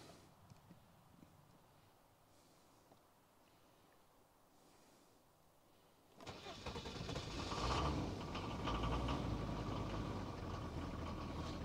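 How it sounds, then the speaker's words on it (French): A Jeep engine cranks and catches about halfway through, rising to a steady rumbling idle that stays loud, after a quiet stretch with faint background sounds. "On va démarrer le Jeep."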